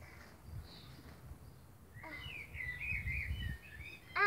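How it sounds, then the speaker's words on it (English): Birds chirp and call outdoors at a sandy spot, thin high twittering phrases heard faintly and at a distance over low background noise. "They sound like angry birds."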